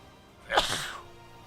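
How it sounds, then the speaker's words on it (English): A single sharp human sneeze bursts out close and clear, brief and alone against a quiet room. "I'm gonna sneeze"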